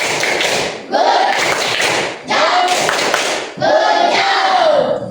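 Indonesian students in an Islamic religious education class perform a clapping chant: four loud, close bursts of rhythmic claps mixed with chanting voices, separated by brief pauses.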